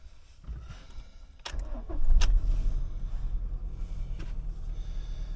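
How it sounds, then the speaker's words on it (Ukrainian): A third-generation Honda CR-V with a VSA/TSA warning fault starts up close by: a soft clunk and key jingle, a brief starter crank, then the engine catches at about two seconds and settles into a steady idle rumble. "Зараз продемонструю вам, заведу авто"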